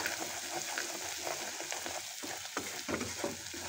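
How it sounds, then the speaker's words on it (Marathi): Ground masala paste frying in oil in a pan for a traditional pumpkin vegetable dish, giving a steady close sizzle and crackle with occasional stirring scrapes and bubbling pops. "एक 2 मिनटं हे वाटण चांगलं होऊ द्यायचं तेलामध्ये."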